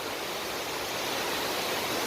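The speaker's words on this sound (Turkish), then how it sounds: "Bulut Şelalesi'nin kaynağını gördük." The head of Bulut Waterfall near Çamlıhemşin, Rize, roars as a constant, dense rush of falling water, loud and close with no pauses or voices.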